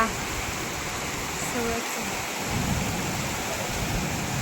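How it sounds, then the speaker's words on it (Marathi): Heavy monsoon rain pours down in Pune during a storm with wind, a dense, steady roar with low rumbling underneath that holds constant throughout. "आजचा पाऊस जास्तच म्हणजे असं जोरात पाऊस आहे आजचा वारं पण आणि हवा पण हे हवा वारं विजा"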